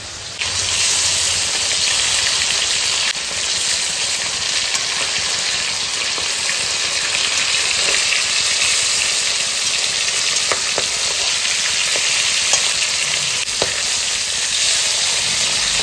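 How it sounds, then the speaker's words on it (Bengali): Fish fries loudly in a pan as part of a home-cooked fish curry meal, with a dense, continuous hiss and sizzle close by, broken only by a few sharp pops and spatters and no one talking. "মাছটা ভাজা হয়ে গেছে, এবার মাছটা আমি তুলে নেব।"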